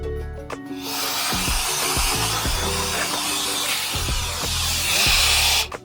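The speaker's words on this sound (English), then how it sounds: "There's our blower." A power blower with a pointy tip roars steadily while cleaning dust from a drop saw, loud and close, with scraping and knocking underneath and a slight swell near the end before it cuts off.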